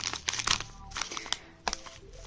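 Close crinkling and crackling of a plastic packet being handled, with irregular sharp rustles and pauses between them.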